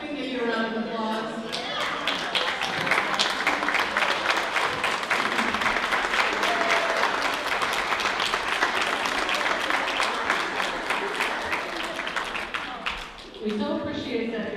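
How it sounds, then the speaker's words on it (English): A roomful of guests at a luncheon gives a sustained round of applause for first-time attendees, dense and even for several seconds before tapering off, with voices briefly audible at the start and end. "So we can give you a round of applause."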